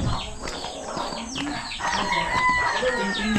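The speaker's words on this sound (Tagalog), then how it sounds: "Dito na naman yung mga manok ni papa." Chickens belonging to a household wander about indoors, giving clucks and crowing calls over a busy backdrop of household noise; the calls are fairly near and moderately loud.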